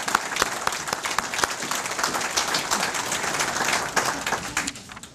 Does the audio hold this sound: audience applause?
yes